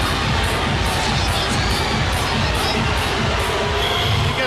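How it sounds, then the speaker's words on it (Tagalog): A loud basketball arena crowd at a PBA game between Barangay Ginebra San Miguel and the Alaska Aces roars and jeers continuously, a dense wall of shouting voices. "He gets up once again to the boos of the crowd"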